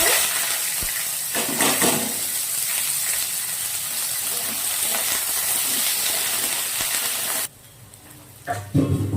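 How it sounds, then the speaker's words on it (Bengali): Onion goes into hot oil already seasoned with cumin, cinnamon, cardamom and bay leaf, giving a steady loud sizzle and crackle that drops abruptly near the end. "তেল গরম হয়ে গেছে জিরে দিয়ে দিলাম দালচিনি এলাচ তেজপাতা এবার পেঁয়াজটা দিয়ে দেবো"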